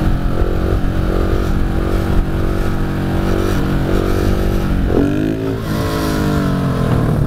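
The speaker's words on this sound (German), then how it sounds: "Hier ist frei, ich könnte mal ein Wheelie bis zur nächsten Ampel machen." A motorcycle engine drones close and loud at steady revs, then its pitch climbs sharply as the rider opens the throttle to pull a wheelie on an open road.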